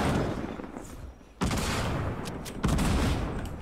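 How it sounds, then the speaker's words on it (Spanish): Bursts of gunfire from the video game Fortnite, a sustained rattling volley followed by two sharper bursts, fairly distant and muffled, with no talking over them. "Escuché un disparo."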